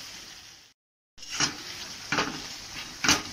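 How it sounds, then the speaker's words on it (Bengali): A spoon scrapes and knocks in a pan while tomato and spice masala with salt is stirred, a few separate clanks over a low sizzle, close by, with a brief gap of silence. "নুনটা দিয়ে মশলাটা নাড়ানোর একটাই উদ্দেশ্য"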